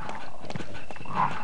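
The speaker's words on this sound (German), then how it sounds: "Boah, wie viele Hunde hier sind." Dogs in the Resident Evil video game, heard as a short burst of growls and barking-like calls over steady in-game background noise, with no talk.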